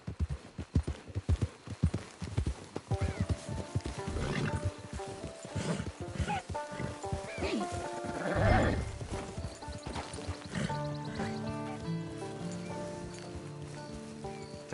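Horse hooves clip-clopping and a whinny in Red Dead Redemption 2, with an irregular run of hoof hits first, then a loud neigh midway, followed by game music and ambience.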